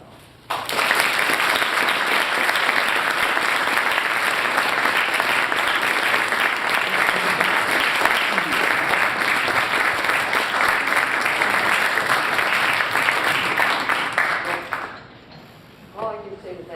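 Sustained audience applause welcoming Avis Cohen to the stage at a talk on lamprey spinal cords and robots, loud and steady for about fourteen seconds before tapering off into quiet.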